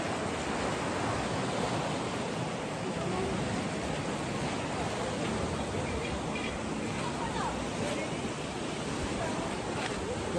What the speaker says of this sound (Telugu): అసలు ఎంత ఫాస్ట్గా వెళ్తున్నాయి వాటర్